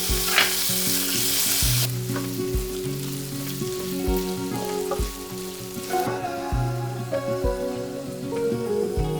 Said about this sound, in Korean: 감자를 튀기듯이 볶다가 겉면이 노릇해지면 문어 숙회를 넣어주세요.